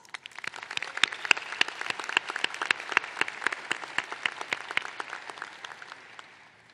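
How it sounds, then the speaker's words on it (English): Audience applause at a nursing school pre-commencement ceremony, a steady wash of many hands clapping with sharp individual claps standing out, fairly distant in a large hall and fading toward the end. "You also deserve congratulations and a round of applause."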